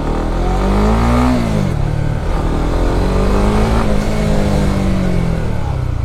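A Honda CBR 2025 Thai Edition motorcycle engine revs loudly and close, rising and falling in pitch through two throttle blips over a steady idle drone, with no talking.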